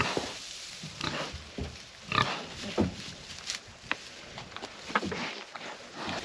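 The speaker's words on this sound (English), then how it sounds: "Here, pig, pig, pig." A pig on a farm grunts and snuffles in short, irregular bursts close by, against a faint steady background hiss.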